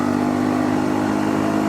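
A Honda CL250 motorcycle climbs a steep uphill road in third gear, its engine droning loud and close with a steady, throbbing note and no voices.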